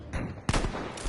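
Bursts of gunfire from the video game Battlefield V, loud and close, with a dense rattle of shots starting partway through and continuing without a break.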